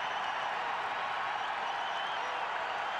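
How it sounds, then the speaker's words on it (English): A dense, steady roar of applause and cheering rises from the UNLV Rebels home crowd at a college basketball game and holds loud and unbroken throughout. "Here comes the Rebel crowd."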